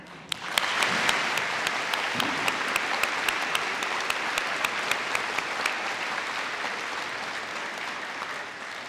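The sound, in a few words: school assembly applause for veterans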